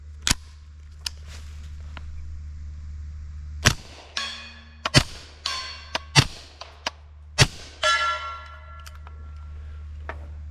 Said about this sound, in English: I love the sound of 45 slamming steel from far away when suppressed